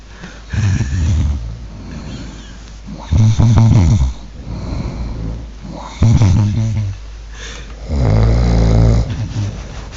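Two men snore loudly in a snore battle, with deep rasping inhalations arriving in heavy bursts roughly every two to three seconds, close to the microphone and with no talking.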